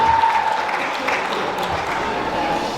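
Wedding guests keep up a steady round of applause in a reception hall, continuous clapping with scattered voices mixed in.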